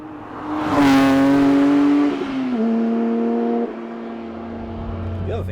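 A Porsche 911 GT3 Touring revs hard through the gears, its flat-six engine rising sharply, then stepping down at each upshift, loud and close before settling into a steadier drone.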